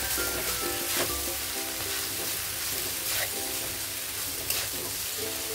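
Boiled noodles sizzle steadily in a hot pan while being stirred, a continuous crackling hiss with occasional louder scraping strokes, close and fairly loud with no talking.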